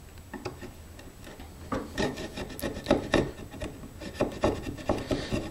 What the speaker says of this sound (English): So I'll make a couple of passes this way to deepen this mortise